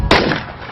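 A single sharp sniper rifle shot from the Indonesian action film The Raid, a loud close crack followed by a fading tail of echo, heard alone.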